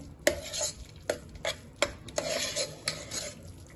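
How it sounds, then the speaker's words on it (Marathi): Dry fruits being mixed into carrot halwa made with ghee in a pan, a series of sharp spatula clinks and scrapes against the metal in an uneven rhythm, close and quiet with no voices. "अर्धी वाटी ड्रायफ्रुट्स मिक्स करून घेऊयात।"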